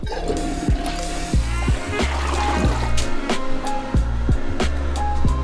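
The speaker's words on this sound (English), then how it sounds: "Gotta flush it first, though." A newly installed toilet in a small renovated bathroom flushes and refills, with loud rushing and gurgling water and rhythmic knocking pulses throughout.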